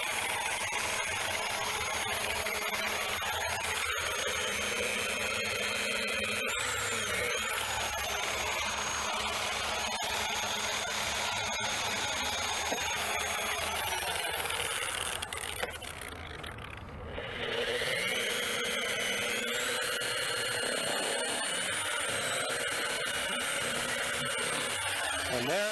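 A buffing pad polisher works over a dirty barn-find car, giving a loud, continuous whirring drone that dips briefly about two-thirds of the way through before resuming.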